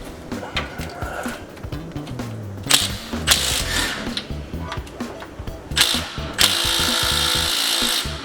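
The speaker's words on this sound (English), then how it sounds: "we're just gonna friggin' undo the rack mounts" Bolts on a power steering rack mount being undone with a power tool, in bursts of loud mechanical whirring and rattling metal, close up, with intermittent knocks and scraping between runs.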